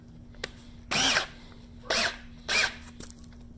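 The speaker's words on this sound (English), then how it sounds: "We're just going to drill" A battery-powered drill bores a hole for a bolt in three close, loud whirring bursts of about half a second each, separated by quiet pauses with a faint steady hum underneath.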